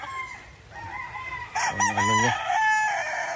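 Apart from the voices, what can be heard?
chickens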